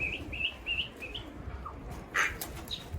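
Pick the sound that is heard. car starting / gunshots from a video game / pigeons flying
pigeons flying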